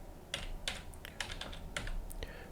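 Quick clicking keystrokes on a computer keyboard, an irregular run of taps close by with no talking.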